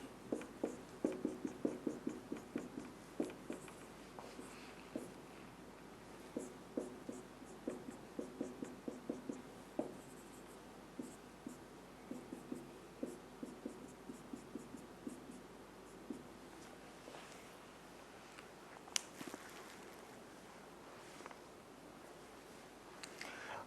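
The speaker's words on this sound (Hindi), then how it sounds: "यहां पे लिख देता हूं" A teacher writing on the board in a chemistry lesson: a quiet, steady run of short tapping and scratching strokes, some in quick bursts, with pauses between them and no speech.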